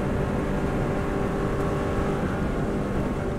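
A Subaru WRX STI engine held at full throttle on the Isle of Man road course, a loud, constant, dense roar with wind and road noise and no letup.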